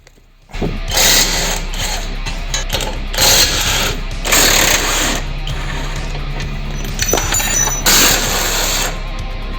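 Dnipro-M DTW 202 BC Ultra cordless impact wrench removing a car control arm in a service garage, in repeated loud rattling hammering bursts separated by short pauses.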